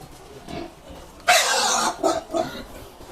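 Fattening pigs of a good breed grunt in a farm pen, a couple of short rough grunts and snorts, close and moderately loud, with no talk.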